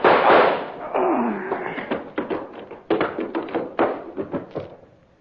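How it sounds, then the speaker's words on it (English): Gunshot sound effects in an old radio drama: a loud opening blast, then a rapid irregular series of sharp bangs and pops that gradually trail off. "All I need is this gun. What gun? Yeah, the kind that goes bang,"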